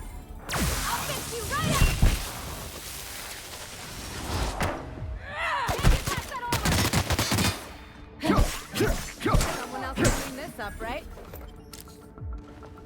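Weapon fire in The Outer Worlds comes as bursts of blasts and impacts with whooshes between them. Some bursts are louder than others, and the action stops and starts, with speech-like voices mixed in among the shots.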